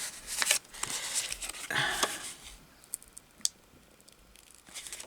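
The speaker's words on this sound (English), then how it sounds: "I have to cut this bit off here." Scissors snipping and paper rustling while cutting scraps into junk journal ephemera, with a few close crisp cuts and crinkles followed by quieter handling sounds.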